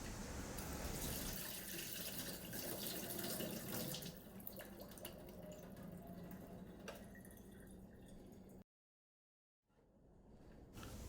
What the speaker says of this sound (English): you can dump the drip tray in the sink